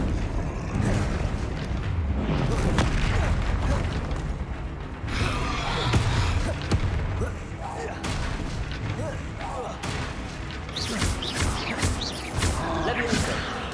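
Blasting spell explosions in Hogwarts Legacy, repeated booms and crackling bursts amid combat against a troll, with spell-casting voices heard throughout.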